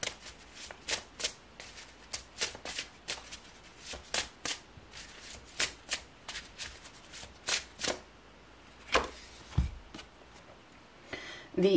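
Tarot cards are shuffled by hand before drawing a single card, a long run of close, crisp riffling bursts with short pauses between them, nearly alone in a quiet room.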